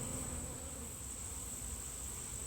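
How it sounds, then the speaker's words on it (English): Honeybees buzz densely in the air around an open Langstroth hive during a late-season inspection, a steady, close hum with no voices. "You can see that there's a lot of bees in the air."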